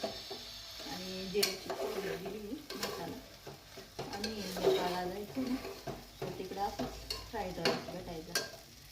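Cumin and fresh coriander are stirred and sautéed in a pan, with a spoon scraping through them in irregular strokes over a low frying hiss, and a faint voice murmuring in the background.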